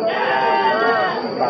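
A male goat at a livestock market gives one long, wavering bleat, loud and close.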